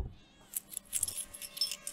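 Keys jangle in the horror video game Infliction, a quick run of bright metallic clinks and rattles over a quiet background, close and fairly crisp for about two seconds.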